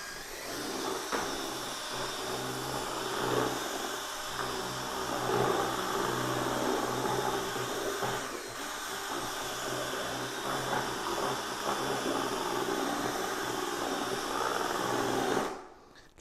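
Quickset drywall mud being mixed in a bucket, a steady mechanical whir of the mixing paddle running continuously at an even pitch, close and fairly loud, stopping abruptly at the end.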